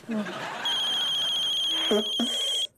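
A steady electronic phone ring with high, even tones runs for about two seconds amid a voice, then cuts off abruptly.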